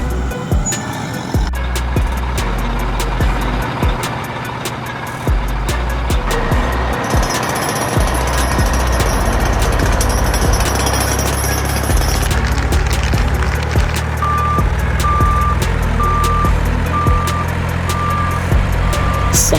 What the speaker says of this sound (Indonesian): hammer excavator atau hydraulic excavator adalah ekskavator penghancur batu atau pemecah batu.